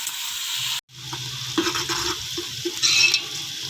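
Onions fry in a pan with garlic and ginger for a mutton curry, a soft steady sizzle with brief stirring scrapes and a short gap, close up and without talk.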